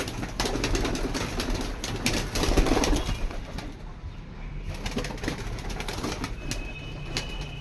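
Racing pigeons coo in a loft, soft repeated calls layered over a dense, continuous rumble of background noise with scattered clicks and flutters.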